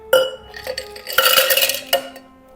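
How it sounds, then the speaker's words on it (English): Ice cubes clatter and rattle into a metal shaker in a few quick bursts, close and bright, with no talking. "let's get some ice into our cocktail shaker."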